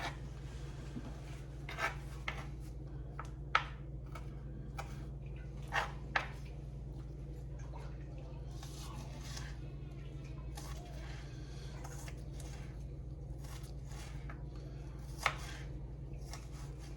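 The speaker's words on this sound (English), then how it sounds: "I'm just dicing up the peppers." A knife dices peppers on a cutting board, giving quiet, scattered taps and chops at an uneven pace over a faint steady background hum.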